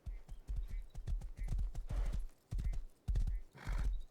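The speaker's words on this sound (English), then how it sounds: "I guess we'll take the horse though." A horse in the video game Rust trots with steady, rhythmic clip-clop hoofbeats and lets out a neigh, the hooves close and clear against a quiet background.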